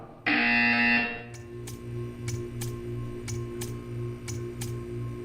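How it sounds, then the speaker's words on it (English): A loud electronic buzzer in the video game Portal 2 sounds once for about a second, followed by a steady run of soft, evenly spaced ticks over a low hum. "When you hear the buzzer, stare at the art."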